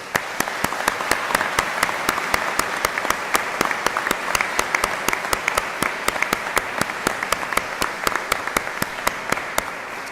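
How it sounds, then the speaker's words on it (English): An audience at the opening of the new Rocky River Police Department gives a sustained round of applause for police department personnel, a steady dense clapping roar with sharp individual claps throughout. "just give them a round of applause if you would"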